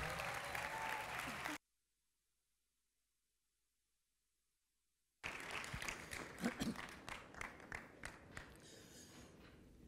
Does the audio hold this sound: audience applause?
yes